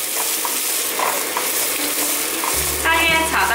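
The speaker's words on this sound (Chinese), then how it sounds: "玉米笋大约略炒一下，可以放入芹菜和四季豆" Baby corn, celery and green beans stir-fry in a hot pan with a loud, continuous sizzle, while a spatula scrapes and tosses them; a low rumbling tone joins in toward the end.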